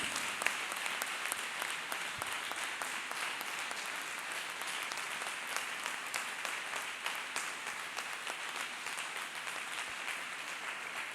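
A large church congregation applauds steadily and continuously, dense clapping from many hands sustained throughout without pause.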